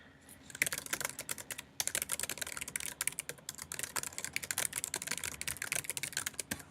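Steady typing on a computer keyboard, a quick run of close, crisp key clicks in uneven bursts with short pauses, alone with no talk.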